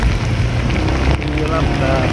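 Heavy rain pours during a flood on a motorcycle ride aboard a Honda Click scooter, a dense, steady roaring hiss close to the microphone, with wind rumble mixed in and no break throughout.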